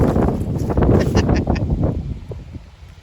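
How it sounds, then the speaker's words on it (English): Strong wind gusting outdoors in snowy weather in Anderson, Indiana, roaring across the microphone in loud buffeting bursts that ease off toward the end, with rustling texture and no talk. "How windy is it out here?"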